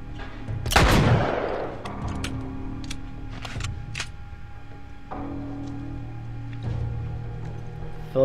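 A loud burst of fully automatic rifle fire from The Last of Us on PS3 opens, followed by sparser sharp shots and clicks over low game ambience.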